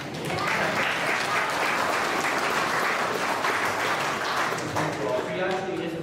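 A town-hall audience at a village Q&A applauds a senator being welcomed: steady, dense clapping for about six seconds, fairly close, with a voice briefly heard near the end as the clapping begins to thin.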